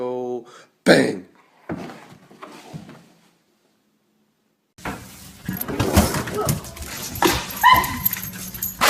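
Dog whimpering and yipping up close, followed after a short quiet gap by a loud burst of barking and whining mixed with human talk and household noise.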